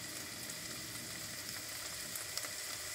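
Ostrich meat stir-frying in a pan with seasoning, a steady close sizzle and crackle with faint stirring scrapes, no voices.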